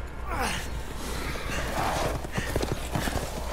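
Horses' hooves clip-clopping in the video game Resident Evil Village, a steady run of soft clops under a dense, continuous game background, close and moderately loud.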